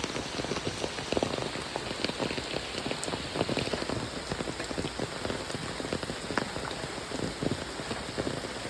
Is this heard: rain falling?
yes